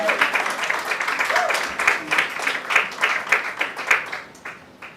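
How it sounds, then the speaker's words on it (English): An audience applauds at an African women in real estate conference, a sustained steady round of clapping with a few voices and cheers mixed in, trailing off at the end. "continue to clap for her."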